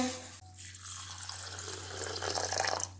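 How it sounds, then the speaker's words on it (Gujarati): Water is poured from a tap onto sugar in a kitchen pan to make syrup for adadiya, a steady splashing gush that swells toward the end, with no talk. "ખાંડ ડૂબે ને એટલું પાણી લેવાનું છે."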